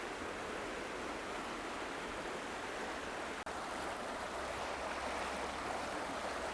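A river flows steadily nearby, a continuous broadband rush of water holding even loudness throughout with one tiny dropout, no voices.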